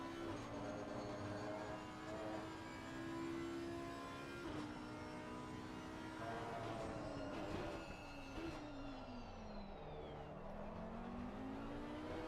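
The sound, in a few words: Audi GT3 race car engine onboard, Assetto Corsa Competizione video game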